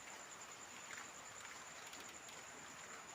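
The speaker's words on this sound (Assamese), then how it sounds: "এয়া চাওক বৰষুণ দি আছে বাহিৰত" Rain falls steadily outside at night, a faint, even hiss of drops on surfaces that continues without a break.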